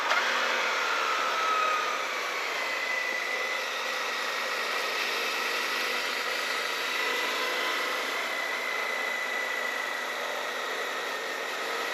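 A Suzuki V-Strom 1050 DE adventure motorcycle engine while riding, a steady droning hum blended with heavy wind rush, continuous and even over the whole stretch, with no voices.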